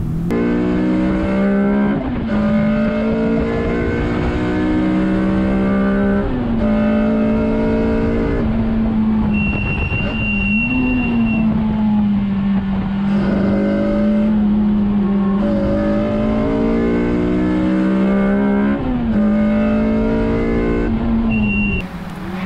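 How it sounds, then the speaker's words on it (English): Mid-engined Lotus race car on a track, engine held flat out in fourth gear with a loud steady howl and small dips in pitch, heard from inside the cabin with no talk. "here's what it looks like from inside the car, flat out in fourth gear"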